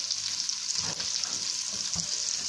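Salmon frying gently over medium heat in a pan, a steady soft hiss of sizzling with a couple of light utensil scrapes.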